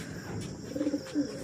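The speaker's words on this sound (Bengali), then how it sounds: "ফুটফুট বেবি তুলেছে পায়রা দুটো আমার রেড আমেরিকান" A couple of short, low coos from a red American Fantail pigeon, faint against a quiet, hissy background.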